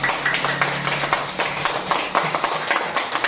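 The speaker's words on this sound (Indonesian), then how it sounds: "Ya, pemberani tepuk tangan dulu." Classroom students clapping hands together in a busy, continuous patter of many small claps, moderately loud and slightly distant, with a low hum underneath.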